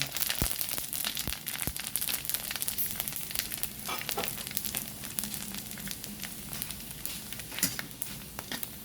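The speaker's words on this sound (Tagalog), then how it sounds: "Pagdagan natin ng oil. Ayan mga sangkay, mainit na. Lagyan na natin ang ating pusit." Squid pieces sizzle and crackle as they drop into hot cooking oil in a pan, a steady close hiss with sharp popping bursts throughout, no talking.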